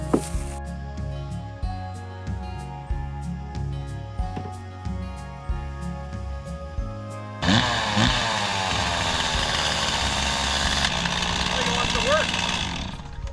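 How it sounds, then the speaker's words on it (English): A chainsaw that has sat unused for a long time putters in uneven bursts, then roars to full throttle and holds a loud, close, steady whine. "Got the chainsaw out."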